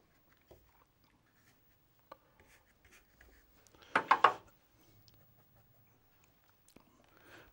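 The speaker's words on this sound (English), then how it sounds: "I'm just mixing the colours on the paper." A brush mixes cobalt blue paint on paper, with faint scattered taps and a short burst of scrubbing strokes midway, close and quiet.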